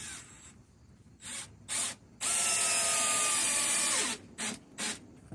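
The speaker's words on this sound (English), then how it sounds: "Now you can screw this into a scrap piece of wood." Power drill driving a screw into a scrap piece of wood, with several short whirring bursts and one sustained two-second run, close and loud.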